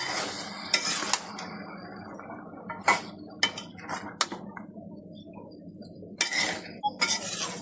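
Vegetables and dried fish with spices stirred in a cooking pan, a spatula scraping and clinking in irregular bursts, some sharp and close, separated by quieter gaps with a soft sizzle beneath.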